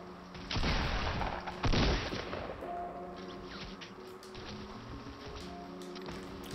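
Sharp bursts of gunfire in a Fortnite Battle Royale match, two loud volleys early on followed by fainter scattered shots and game ambience.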